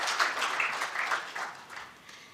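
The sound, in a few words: audience applause at a conference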